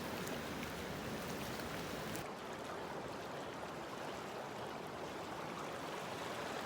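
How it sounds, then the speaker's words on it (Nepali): A stream at Badighat flows beside its bank, a dense, even rushing wash of water that holds steady throughout at moderate level, with no voices. "खोला बगिरहेको छ"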